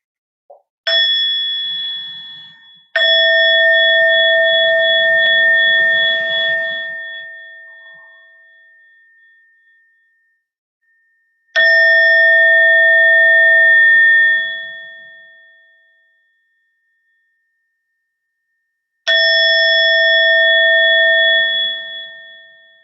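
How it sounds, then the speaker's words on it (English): A meditation bell is struck during a Dharma talk session: a small strike then three clear, ringing tones spaced several seconds apart, each sustaining and fading slowly in otherwise silent surroundings. "So I'm going to sound the bell 3 times, and then Ted will share with us."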